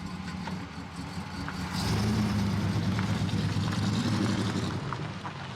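An old, abandoned muscle car rescued from a junkyard drives around the yard, its engine rumbling steadily nearby and swelling louder midway as it pulls along, with no talking.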